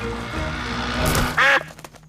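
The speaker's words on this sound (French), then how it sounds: "Pardon, petit canard." A cartoon duck quacks loudly once, a short nasal burst close by, following a moment of softer background sound.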